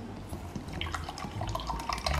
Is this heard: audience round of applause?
no